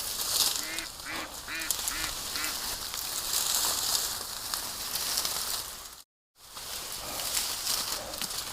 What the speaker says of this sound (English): I can hear the ducks about 15 feet over there.